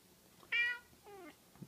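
Two distinct cat meows, the first higher and sharper, the second lower and drawn out, close by over faint background noise.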